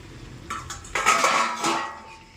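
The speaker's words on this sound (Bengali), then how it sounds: "চলো এবার ঢাকাটা খুলে দেখা যাক কি পরিস্থিতি" A lid comes off a pot of mutton in a clatter of metal on metal, a few clinks and then a louder scrape and rattle before it dies away, close and with no speech.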